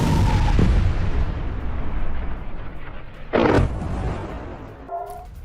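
Heavy gunfire and explosions near the Strait of Hormuz by Qeshm Island, with IRGC forces firing on ships: a loud, continuous rumbling barrage with a sharper blast bursting out midway, then a quieter tail.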